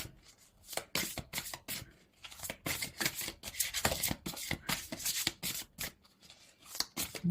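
Tarot cards are shuffled and riffled by hand, a steady stream of crisp, close papery slaps and rubs at a soft overall level.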